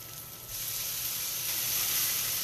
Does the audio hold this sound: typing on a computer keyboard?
no